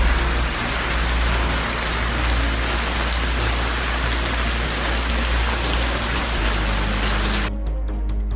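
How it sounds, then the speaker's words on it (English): Heavy rain pours down in Santiago, Chile, a dense, continuous hiss of rain on surfaces that stays loud and steady until it cuts off abruptly near the end. "Heavy rains are causing havoc in central and southern Chile"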